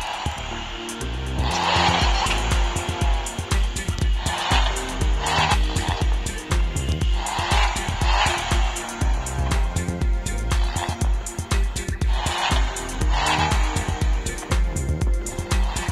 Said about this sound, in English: the engine sound is here